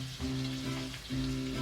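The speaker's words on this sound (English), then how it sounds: "So now that our butter is melting, we can add our onions." Onions sauté in melted butter in a pan on the stove for risotto, a soft, close, steady sizzle with faint stirring.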